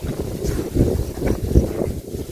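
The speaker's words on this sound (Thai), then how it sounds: "โอ้ลมเย็นดี" Wind gusts across an open rice field in rural northeastern Thailand, a loud rumbling buffet against the microphone that swells and eases in uneven surges.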